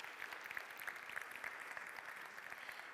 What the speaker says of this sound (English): Maybe a little applause.